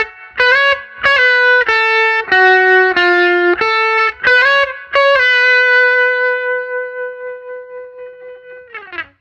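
An electric guitar with effects picks out the melodic picking part of a song, a run of clean, echoing single notes ending on one long sustained note that slowly fades with vibrato.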